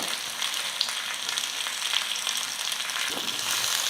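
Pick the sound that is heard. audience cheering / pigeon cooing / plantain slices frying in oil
plantain slices frying in oil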